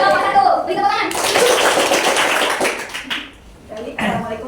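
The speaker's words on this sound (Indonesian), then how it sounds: "Beri tepuk tangan." Applause from a classroom group fills the room, dense clapping that swells then fades out over a few seconds, with a voice briefly heard before it starts.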